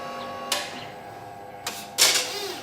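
A Singer ROTOR HDA genomic screening robot dumps its pins and moves to pick up a fresh pin pad, giving a few sharp mechanical clacks and a brief whirring shuffle against a quiet electrical hum.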